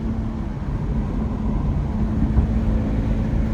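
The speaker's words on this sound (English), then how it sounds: "I hope y'all can hear everything of what this car's doing." A steady, low engine rumble with a constant exhaust drone, holding at an even level throughout and no voices.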